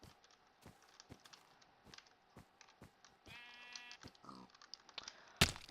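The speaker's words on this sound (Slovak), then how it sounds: "Celkom šťastie, že tu mám ovce." Sheep bleat in Minecraft with the Inficraft mod, a wavering game bleat sounding once amid regular soft clicking footstep-like ticks and a sharp burst near the end.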